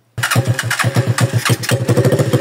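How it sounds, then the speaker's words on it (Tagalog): A Rusi TC125 motorcycle on its first build cranks on the electric starter, a loud, close run of rapid rhythmic pulses that stumbles briefly mid-clip and then keeps chugging, with no talk. "susubukan naman itong mekaniko natin kung gagana pa ba yung starter niya"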